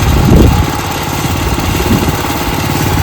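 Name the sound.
engine of a modern farm machine running at a paddy harvest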